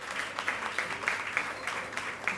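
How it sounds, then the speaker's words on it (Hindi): Audience applause at an International Girl Child Day event, steady moderate clapping from a crowd, somewhat distant and even throughout the short stretch. "तालियां गूंजती रहें।"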